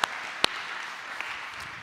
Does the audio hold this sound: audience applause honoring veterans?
yes